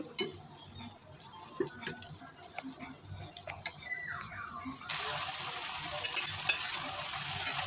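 Cardamom, cinnamon and bay leaves frying in oil in a pan, light clinking stirs at first, then a steady, close sizzle that swells and holds.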